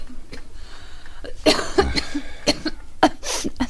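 Repeated coughing from a man, several harsh close-up bursts in an irregular rhythm over a faint background hiss, with no speech.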